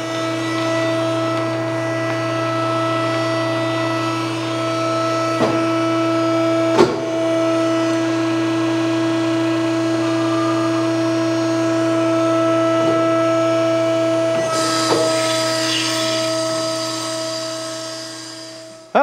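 A hydraulic tube bender works a 2x3 120-wall steel cross member in 2x4 tooling, giving a steady motor drone with mechanical clunks and a few sharp knocks as the die moves and reverses.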